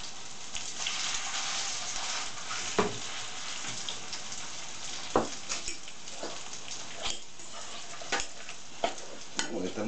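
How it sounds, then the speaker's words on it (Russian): Chicken potato pancakes sizzle steadily in a pan over high heat. A constant hiss of frying sits under occasional scrapes and taps of a utensil, with no talk. "И это все мы жарим на большом огне."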